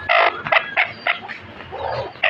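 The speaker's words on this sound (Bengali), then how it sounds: "এই যে আমার বাড়ির সবচেয়ে বুইড়া মুরগি" An old hen clucks in short, sharp bursts spaced irregularly, close by and moderately loud, with a longer rough cluck near the end.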